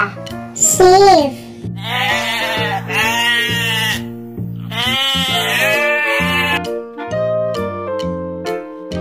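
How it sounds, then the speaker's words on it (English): A sheep bleats in a few wavering, drawn-out calls, loud and close, over steady cheerful background music. "Domba. Sheep."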